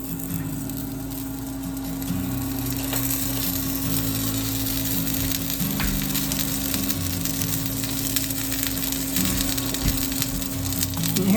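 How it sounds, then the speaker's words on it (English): Biscuits made with lard sizzle in a well-seasoned cast iron pan, a steady close hiss and crackle with a low hum beneath, continuous throughout. "here's some sizzling because this cast iron is well seasoned"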